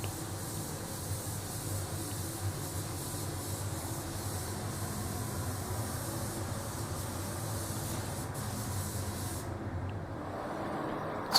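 Spray gun laying down the first coat of paint on a VK Calais car, a steady soft hiss running continuously, faint and even, cutting off near the end.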